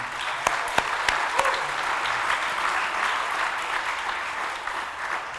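Steady applause from a room full of people clapping at a book awards ceremony, continuous and even throughout.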